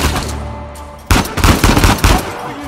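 Rapid bursts of AK rifle fire in the video game Uncharted 4, loud and close, a short quieter stretch followed by a dense chattering volley of shots over game ambience.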